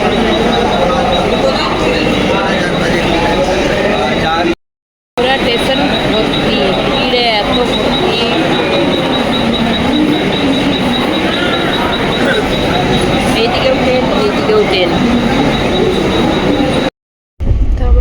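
Local train at Dadar station, heard as a loud continuous rumble of rail cars with wheel noise and some squeal, under people talking nearby, with two brief dropouts.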